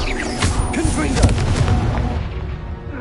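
Confringo fire spell going off in Hogwarts Legacy, a dense, rumbling blast with crackling bursts that stays loud and sustained for about three seconds before thinning out.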